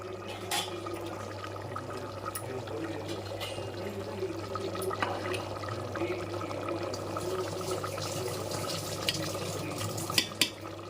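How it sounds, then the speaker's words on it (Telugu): Rice pours into a pot of boiling water for vegetable dum biryani, with a steady watery rush and bubbling over a low background hum, followed by a couple of sharp clinks near the end. "ఇప్పుడు రైస్ వేసేసుకుందాం"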